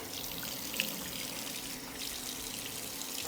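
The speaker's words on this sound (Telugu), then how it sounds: "వాటర్ స్ప్లాష్ చేసుకోండి" Water is splashed onto a face over a sink, a soft, continuous watery patter and trickle, quiet and close, with one small splash near the start.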